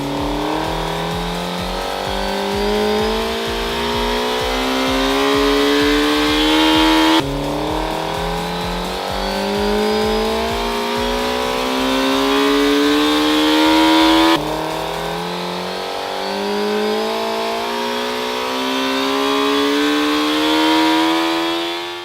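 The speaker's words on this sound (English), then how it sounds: "we'll use the dyno and do a ramp test and do that for every TPS zone" A motorcycle engine on a dyno revs in repeated ramp-test pulls, three long sweeps of rising pitch that build loud and steady, each ending in an abrupt cut before the next run begins.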